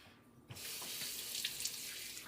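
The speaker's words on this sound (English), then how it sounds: "I'm gonna rinse this one out." A kitchen faucet switches on and runs steadily as a 1/4 measuring cup is rinsed beneath it, with a quiet hiss of flowing water and small splashes, close by with no speech.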